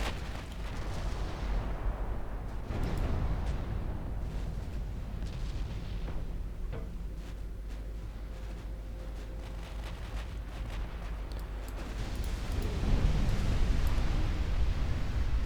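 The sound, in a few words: torpedo hitting warship in video game Ultimate Admiral Dreadnought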